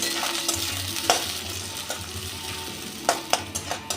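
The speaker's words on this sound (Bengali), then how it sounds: "এবার এই তেলে মাঝারি সাইজের 3টে পেঁয়াজ আমি ভেজে নেব" Three medium onions frying in hot oil in a wok for Kolhapuri chicken, a steady broadband sizzle with occasional sharp stirring clicks and scrapes, close and continuous with no talk.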